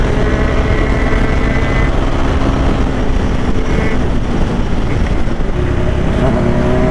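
A superbike on a road between Hetauda and Chitwan gives a loud, constant engine drone mixed with wind rush and road noise. It holds steady with small shifts in pitch, recorded close with no talk.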